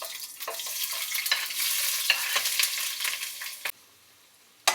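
Onions fry on medium high heat in a pan where allspice berries have been toasting for Jamaican saltfish run dung, a loud crackling sizzle with busy stirring that drops off abruptly near the end, followed by a final clatter.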